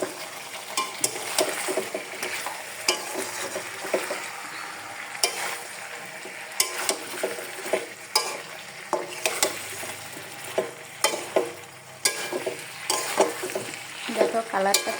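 Food fries in a wok as turmeric is added and stirred in, a steady sizzle under repeated scraping strokes of a spatula against the pan, close and rhythmic.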